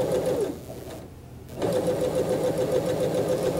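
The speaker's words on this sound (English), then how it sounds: "So all the way down with a basting stitch." A sewing machine runs a long basting stitch down a zipper, a close, steady rapid whirring and clatter that pauses briefly for a moment, then resumes at the same pace.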